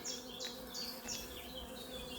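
Honey bees hum steadily around a hive holding a young swarm, a dense, close buzzing with individual bees whining past overhead, with no talk.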